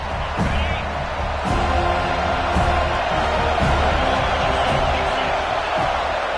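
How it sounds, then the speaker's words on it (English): Football stadium crowd at a Florida game, a steady loud roar of cheering and whooping with scattered sharp claps, sustained throughout under a commentator's voice. "this crowd now ready to get behind them"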